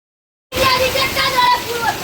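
Heavy rain falls in Siddhpur, Gujarat, a sudden steady wash of hiss that starts abruptly and continues evenly, with people talking over it.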